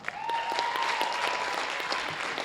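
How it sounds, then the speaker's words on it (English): Audience applause at a high school percussion concert, a sustained round of clapping heard from within the hall, fairly quiet and even throughout with scattered sharper claps. "Give them a round of applause."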